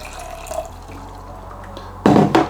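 Water is poured for an Athletic Greens drink, starting with a few soft drips and splashes, then a louder gush of pouring near the end.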